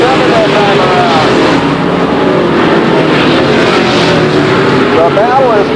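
Several race cars roaring together in a close pack at Lake Geneva Raceway in 1994, a continuous loud engine drone with shifting pitch sweeps as they pass, with a commentator talking over it.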